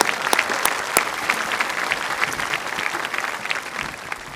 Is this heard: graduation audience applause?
yes